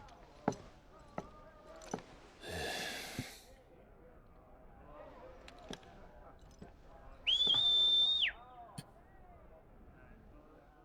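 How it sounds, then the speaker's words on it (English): A single sharp, sustained whistle used to summon a Stolas bird in Final Fantasy 16, rising briefly and then holding steady for about a second, amid light game ambience, soft taps and a burst of breathy rushing noise earlier. "So all I have to do is whistle and then you can summon a Stolas just from doing that?"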